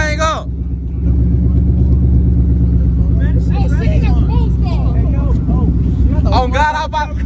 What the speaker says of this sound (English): Rev that thing up.